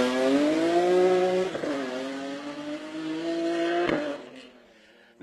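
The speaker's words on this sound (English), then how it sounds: "And here comes Rhett Watson in the big BMW." A big 400-horsepower BMW rally car on a stage in Barbados roars loudly close by, its engine note rising and falling through gear changes before fading away.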